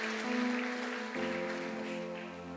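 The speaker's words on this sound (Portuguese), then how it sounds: "Aplauda o Espírito Santo, aplauda Ele." A church congregation applauds during a Friday worship service, sending a steady wash of clapping that holds on beneath sustained keyboard chords.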